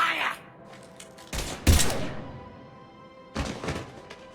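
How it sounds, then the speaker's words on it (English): Gunfire in the video game Mass Effect 3: a few loud, sharp bursts of shots with heavy thuds, separated by quieter stretches of game ambience and some talk. "Now open fire!"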